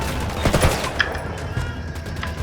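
Gunfire in the video game Ghost Recon Wildlands, a few sharp cracking shots clustered early then scattered fainter pops, moderately loud over a low rumbling background.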